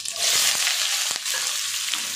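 Chopped onions sautéing in hot oil with mustard seeds and fennel for a Tamil tomato kootu, a loud steady sizzle with a few stirring scrapes from a spoon in the pan.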